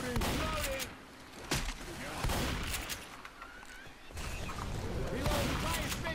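Gunfire in the video game Left 4 Dead 2: repeated bursts and single shots over a busy game mix, fairly loud and close, with players talking over it.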